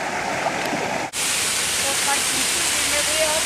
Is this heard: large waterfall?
yes